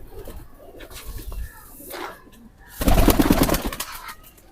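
Rampuri pigeons coo and call in bursts, with a louder, busier stretch of cooing and fluttering near the end, heard close by.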